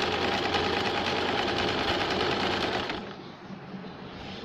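A sewing machine stitches a dhoti salwar with a steady, close whir for about three seconds, then stops, leaving quieter room sound.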